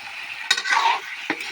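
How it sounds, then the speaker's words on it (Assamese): Meat curry stirred as it fries in a wok: a steady close sizzle with a few sharp scraping strokes of the spoon against the metal, no voices. "চাওক মই ভালদৰে লৰাই আছোঁ"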